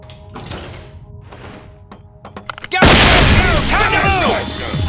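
In the SWAT 4 video game, a flashbang detonates during a door breach: scattered clicks and door noise give way to a sudden loud, sustained boom-and-ring burst with chirping tails.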